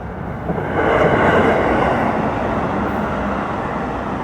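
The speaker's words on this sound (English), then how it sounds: "we should be getting a bullet train across any second now" A Japanese bullet train rushes past nearby as a broad, steady roar that swells within the first second and holds at strong level to the end, with no talk over it.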